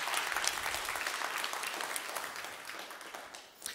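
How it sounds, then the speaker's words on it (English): Audience clapping at a church service, a dense, fairly soft wash of many hands applauding steadily and fading slightly toward the end. "Let's give a clap for that."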